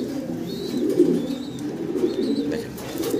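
Pigeons at a pigeon farm coo in soft, low, throaty rolls that repeat several times, close by. Faint chirps sit above the cooing, and no one speaks.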